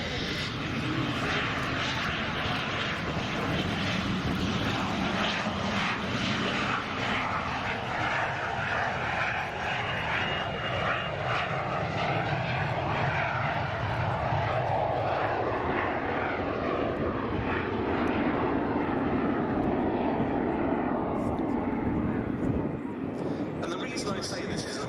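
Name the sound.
whistle of de Havilland Goblin turbojet, de Havilland Vampire FB6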